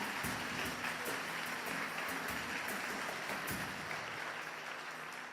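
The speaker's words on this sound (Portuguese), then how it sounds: "Pode aplaudir a Jesus." Church congregation clapping in a sustained, dense wave of applause that holds steady throughout, with no voices standing out.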